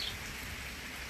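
Steady rain falling outside a house garden, a soft continuous hiss with no speech.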